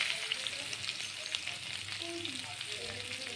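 Diced potatoes frying in oil give a steady, close hiss and crackle that holds evenly throughout, with no voices.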